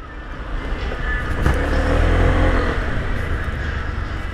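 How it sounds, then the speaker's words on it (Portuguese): A scooter at a scooter show revs up, its engine building into a loud, sustained drone with a brief rise in pitch, close to the microphone and without talk. "Dá uma aceleradinha aqui."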